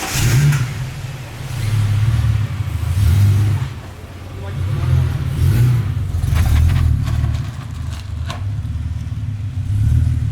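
A Ford AU Falcon engine revs and rumbles as the car rolls out, rising and falling in surges, with a person speaking over it and a brief jangle of keys.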